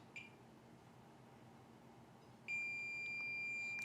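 A multimeter gives a thin electronic beep briefly during continuity testing on an iPhone motherboard, then a sustained high tone holds steadily over faint background hiss.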